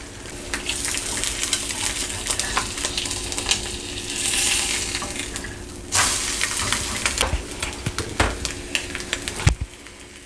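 An egg sizzles in a frying pan for a breakfast sandwich, a steady close crackle of hot fat with a few clinks and scrapes, no talking.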